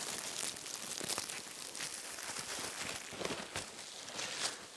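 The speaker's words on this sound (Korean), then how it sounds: "비닐봉투를 이렇게 열어서" A plastic bag, a thin produce bag, crinkles and rustles as it is opened, with continuous close crackling and a few sharper crunches throughout.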